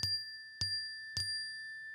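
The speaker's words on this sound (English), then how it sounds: "We've got a bell now, have we?" Three bright soundboard bell dings ring out at even intervals, each a sharp close strike with a sustained shimmering tone that decays between hits, with no talk.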